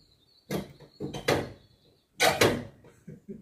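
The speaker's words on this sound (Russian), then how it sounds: "Она даже пытается открыть балконную дверь." A cat paws at a balcony door, making three bursts of rattling, knocking clatter separated by short pauses, close and fairly loud.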